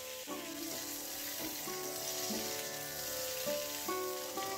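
Pointed gourd (potol) sizzles steadily in a pan of hot oil, a quiet, even frying crackle with no voices over it.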